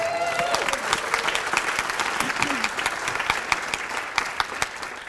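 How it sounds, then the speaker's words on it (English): An audience claps steadily and densely at a live placemaking-week event, with faint voices and a brief cheer mixed into the sustained applause. "Clap it up for that."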